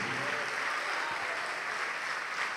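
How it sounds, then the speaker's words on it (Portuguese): A church congregation applauding, a steady wash of many hands clapping at an even level from start to finish, with no voices standing out above it. "vamos aplaudir ao nome de Jesus"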